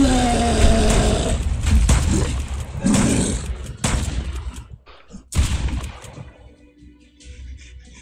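Rapid gunfire bursts in the zombie survival game Mist Survival, loud sharp shots repeating over several seconds with booming impacts, then tapering to quieter sporadic noise near the end.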